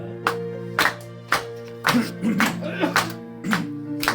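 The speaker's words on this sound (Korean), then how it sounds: "박수 치면서 합시다." Hymn singers at a church prayer breakfast clap in a steady beat about twice a second, sharp claps over sustained sung or organ tones.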